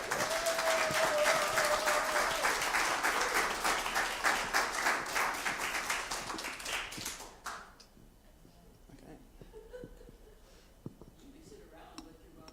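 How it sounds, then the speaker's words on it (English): Audience applause for a university brass quintet, a thick burst of many clapping hands that holds strong for several seconds, then fades out around seven seconds into a quiet room with faint murmurs and shuffles. "let's give them another applause"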